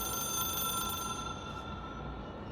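A telephone rings inside the video game Control, an otherworldly object-of-power phone, its steady bell-like tone sustained and fairly loud over a dense background drone, with no one speaking.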